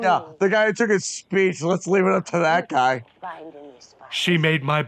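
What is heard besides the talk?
None of the usual background noises is heard.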